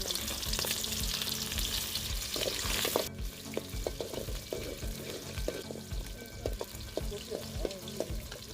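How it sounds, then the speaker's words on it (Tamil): Cinnamon and cloves fry in hot oil in a pan, a steady dense sizzle with crackling pops and occasional stirring scrapes, loud and close, with no talk over it. "போட்டு நல்லா பொன்னிறமாக வர வரைக்கும் நம்ம வறுத்துக்க போகிறோம்."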